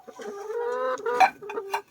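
A farm chicken clucks close by, a short run of drawn-out tonal clucks and sharper calls over about two seconds, alone and clear.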